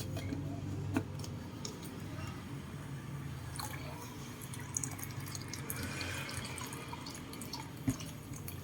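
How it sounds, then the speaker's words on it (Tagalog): Water is added to a cooking pot in a quiet kitchen, heard as faint, scattered drips and small clicks with occasional sharper taps. "dinagdagan ko na ng tubig"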